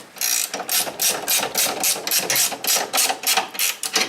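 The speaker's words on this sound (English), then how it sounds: "I'm using 19 ratcheting wrench, so this doesn't take very long." A 19 mm ratcheting wrench tightens leaf spring bolts on a vehicle, producing a quick, even series of about a dozen close, sharp ratcheting clicks in back-and-forth strokes, with no one talking.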